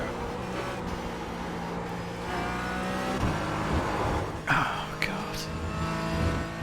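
Race car engine in the iRacing video game drones and climbs through gears, with a faint tire squeal and a voice talking quietly underneath.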